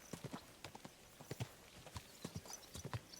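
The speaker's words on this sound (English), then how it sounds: "Easy. Good horse." Horse hooves clip-clopping in the video game Kingdom Come Deliverance 2, a steady run of quick, fairly close hoofbeats in an uneven galloping rhythm, with no talk.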